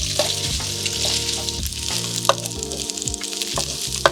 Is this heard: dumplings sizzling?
yes